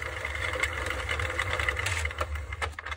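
A circular knitting machine being cranked by hand gives a steady mechanical whir with a low motor-like hum and light clicking, continuous at close range with no talking.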